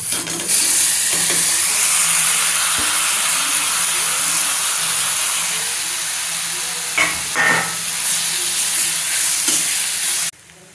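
Loud, steady sizzling and hissing as finely chopped tomatoes fry in a hot pan, with occasional stirring scrapes, before the sound cuts off abruptly near the end.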